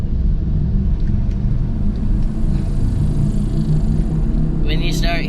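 A 1997 Nissan Maxima with a worn front wheel bearing gives off a loud, steady low grinding rumble while driving. A voice talks over it and a short rattle comes near the end.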